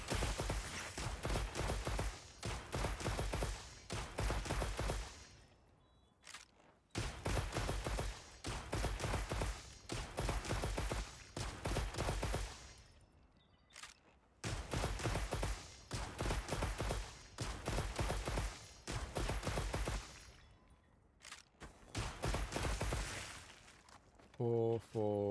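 Rapid-fire attack in the video game Path of Exile 2: several long bursts of dense, rapid-fire shots, each lasting a few seconds and separated by short pauses, loud and close throughout.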